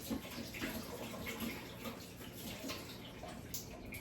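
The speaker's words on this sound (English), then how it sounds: "So I'm gonna wash my hands." Tap water runs steadily into a sink while hands are washed in the stream, a soft continuous splashing that is fairly quiet and close, with no talking.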